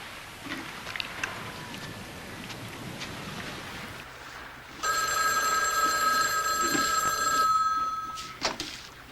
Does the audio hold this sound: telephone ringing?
yes